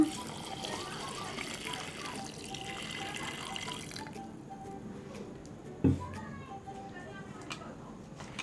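Water runs and splashes steadily into a blender holding peaches, sugar and salt, with a brief clunk partway through; a voice talks over it.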